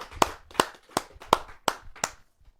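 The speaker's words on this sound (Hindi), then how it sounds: "आइए जोरदार तालियों से उनका स्वागत करें।" Audience at a Hindi kavi sammelan poetry event claps to welcome a poet from Delhi: six distinct, evenly spaced loud bursts of hand claps, close and sharp, then quiet.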